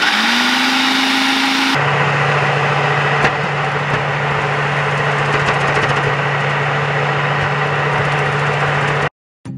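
A food processor motor starts with a rising whine, then runs steadily as the grating blade spins with a loud, constant buzzing drone, stopping abruptly near the end.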